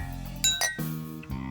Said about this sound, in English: Ajay, Nate, Zeke, and Jags took turns clinking glasses and bottles with Cam.